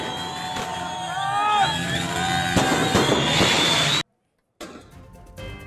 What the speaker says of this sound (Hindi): पूर्वी घौता में विद्रोहियों का जश्न, आतिशबाजी करके जश्न कैसे मनाया गया